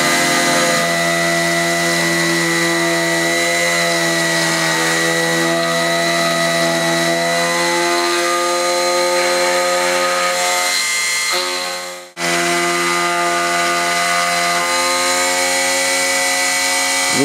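A Bianchi 303 key cutting machine grinds through a key with a loud, continuous high whine, holding steady for many seconds before a brief dip and resuming at full strength.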